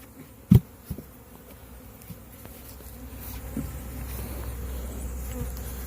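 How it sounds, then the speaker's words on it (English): A sharp thump near the start as honeybees are dumped out of a hive, then a steady low insect buzz that swells and hums on throughout, like a swarm milling close by. "I'm just going to dump them out. Try to get all the bees out of there."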